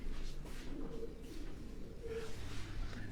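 A Sialkoti pigeon coos softly in a low, repeated rhythm, close by, with faint background noise.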